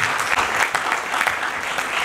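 Conference attendees applaud a speaker in a brief burst of dense, continuous clapping from a room full of people, fairly loud and close.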